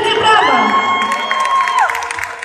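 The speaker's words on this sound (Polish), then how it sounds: "Wielkie, wielkie brawa!" A crowd cheers and whoops for the newly crowned Miss WOŚP at a charity event, loud high-pitched shouts and rising cries close by, with some clapping mixed in.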